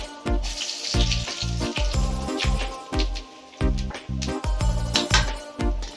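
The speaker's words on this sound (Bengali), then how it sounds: "ফোড়নের জন্য দিয়ে দিচ্ছি একটা শুকনো লঙ্কা" A dried chilli and whole cumin seeds hit hot mustard oil left over from frying fish, crackling loudly and close in uneven pulsing bursts with no voices.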